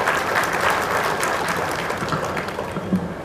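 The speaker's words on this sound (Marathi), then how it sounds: "एकदा जोरदार टाळ्या झाल्या पाहिजेत।" An audience at a new Padmaja Motors car showroom branch opening in Solapur breaks into loud, sustained applause, dense clapping filling the whole moment without any voices over it.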